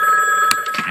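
A telephone rings in a cartoon sitcom scene, a steady electronic ring sustained across the clip with a couple of brief bursts of noise breaking in near the end.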